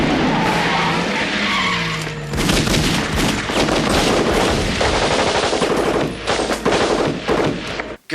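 Sustained automatic gunfire in a movie action scene from Crackerjack 2, loud, dense rapid bursts layered with crashes and skidding, continuous for most of the stretch after a brief lead-in.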